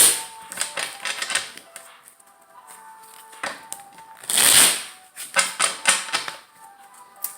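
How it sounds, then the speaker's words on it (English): A tarot deck is shuffled by hand nearby in quick, crisp riffling bursts of papery clicks, with brief pauses between passes and one longer, louder riffle in the middle. "We're going to shuffle."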